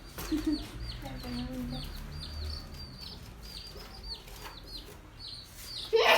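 Chicks peep rapidly and repeatedly in a high, chirping chorus, with occasional lower clucks from chickens, nearby and steady throughout.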